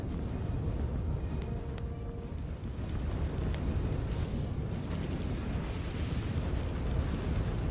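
Ordnance explodes in a space battle in the Stargate Invasion game mod, a continuous low rumbling barrage with a few sharp high pops early on, steady and dense throughout.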